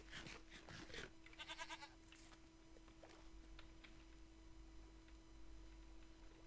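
A goat in a video game bleats in a few quick, wavering cries at the start, fairly close over a faint steady hum, then the game fades to quiet ticking and soft background noise.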